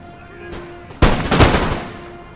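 Musket gunfire in a battle in Empire Total War, a faint shot, then a loud cluster of overlapping volleys cracking in quick succession.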